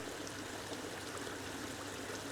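A garden waterfall flows in a steady, continuous rush and trickle of water, fairly close and even in level, with no talk over it.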